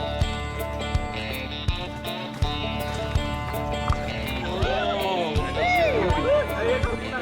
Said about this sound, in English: we're going to go horse riding along the Camargue